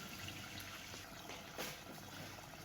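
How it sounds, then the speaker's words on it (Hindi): Water poured from a glass into a cooking pot for chana pulao with rice, a steady faint splashing pour lasting the whole stretch with a slightly louder surge midway. "अब हम इसमें डालते हैं पानी।"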